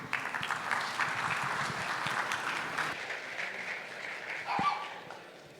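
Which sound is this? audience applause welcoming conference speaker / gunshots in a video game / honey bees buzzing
audience applause welcoming conference speaker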